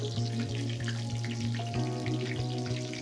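Cauliflower pieces fry in hot oil with a steady, bubbling sizzle and crackle. A low mechanical hum runs underneath and the sound stays even throughout, with no voices.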